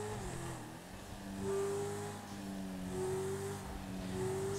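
Engine of the Dinka Jester, a Honda/Acura NSX-style sports car in GTA 5 Online, revving and shifting through several rising tones, steady and fairly faint throughout.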